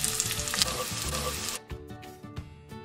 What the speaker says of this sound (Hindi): अब हम इस तड़के को दाल में डाल देंगे।